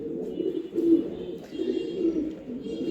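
A racing gorra pigeon coos in a low, repeated rolling rhythm of several soft phrases, close by and steady, with no talking.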